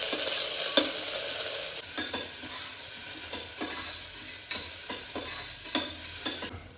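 Chopped onion and browned chopped garlic sauté in a pan, a loud, close sizzle broken by a steady series of spatula scrapes and stirs against the metal.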